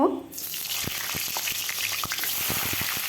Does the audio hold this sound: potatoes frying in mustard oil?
yes